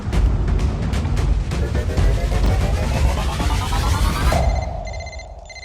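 A telephone rings in a Telugu crime thriller scene: a steady electronic ring pattern emerges near the end and stands out against a busy, loud background score.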